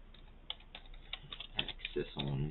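Computer keyboard typing while entering a network switch configuration banner, a quick run of light, close clicks that speeds up toward the end, with a voice talking over it.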